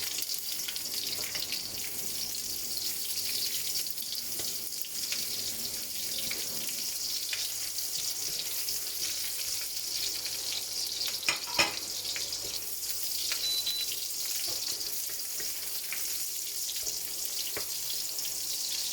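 Garlic and onion frying for pinakbet, heard as a continuous soft hissing sizzle that stays even throughout, with a couple of faint clicks and no voices.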